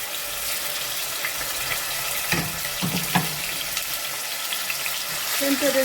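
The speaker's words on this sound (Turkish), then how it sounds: "Şimdi ısındıktan sonra doğradığım soğanımı koyacağım." Chopped onions sizzle steadily in hot oil in a heated pot, a constant hiss with a few clattering bursts of stirring partway through.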